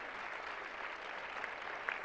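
An audience at a plenary conference session on women in STEM in Africa claps, a soft, distant, steady wash of applause throughout.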